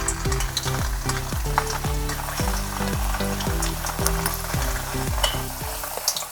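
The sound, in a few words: soya chunk kebabs frying in hot oil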